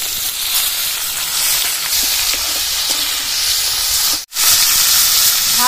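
Cauliflower pieces drop into hot oil with cumin, dried chilli, bay leaf and potatoes, setting off a loud, continuous sizzle and hiss with a brief dip before the frying surges back.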